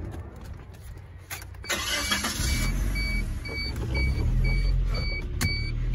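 A Suzuki Sidekick JLX 4x4 with 90k miles cranks briefly and starts, then settles into a steady close idle with a faint repeating chime over it.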